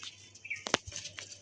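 A male pigeon thrashes and flaps its wings in one sharp, close burst of feathery beats, surrounded by faint chirps and rustling.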